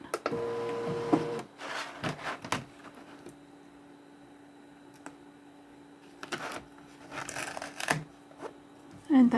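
A Loklik Icraft craft cutting machine ejecting its cutting mat, heard as close mechanical whirring and rolling bursts with clicks and pauses between them, ending in a brief louder clatter.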